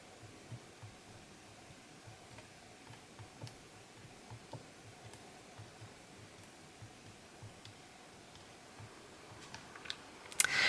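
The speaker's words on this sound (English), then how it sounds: "taking this tiny little cutter, and I was going to cut myself lots of little circles" A tiny cutter presses small circles from polymer clay, making a run of soft, light taps and clicks at a fairly regular pace against quiet background, ending in a brief louder clatter.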